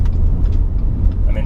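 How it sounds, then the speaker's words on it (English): A 2018 Subaru Crosstrek in manual mode is shifted down with its paddle shifters while turning left; steady close engine and road rumble fills the short stretch with no distinct shift event standing out. "I'm just going to downshift."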